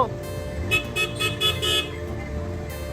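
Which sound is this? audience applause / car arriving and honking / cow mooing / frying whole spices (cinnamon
car arriving and honking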